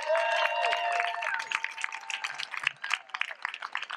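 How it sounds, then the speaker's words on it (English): Crowd applause at a Whole Washington political rally, dense and steady clapping with some cheering, loud at first and thinning slightly toward the end. "Let's give them a big round of applause."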